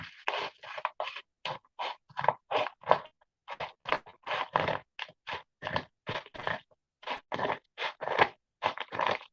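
Scissors cut open an Amazon package, making a close, rhythmic series of about twenty short, scratchy crunching snips with brief pauses between them and no talking.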